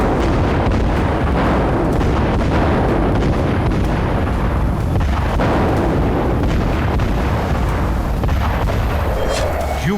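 Explosions from Russian missile strikes, heard as a loud, dense, continuous booming rumble that stays heavy throughout with no voices.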